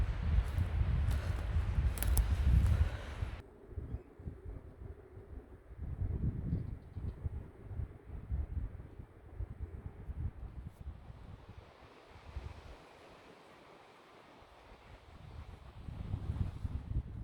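Strong wind gusts roar through trees outdoors, a steady broad rushing that swells and eases, close to the microphone with buffeting wind noise.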